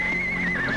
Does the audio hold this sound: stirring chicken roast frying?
no